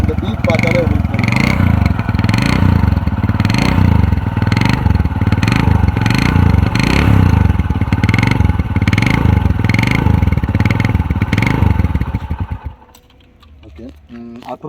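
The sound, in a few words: Honda CD 100 motorcycle engine running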